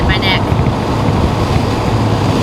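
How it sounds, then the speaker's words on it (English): Heavy wind noise roars steadily and loudly around a 1992 C4 Corvette driving on a windy day, a dense broadband rush that continues the whole time. "It's windy."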